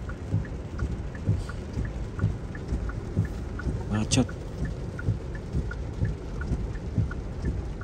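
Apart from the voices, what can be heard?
thunderstorm with heavy rain during road trip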